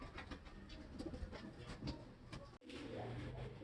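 A racing pigeon coos softly and repeatedly at a distance over low background rumble, with a brief dropout before the ambience resumes, no one speaking.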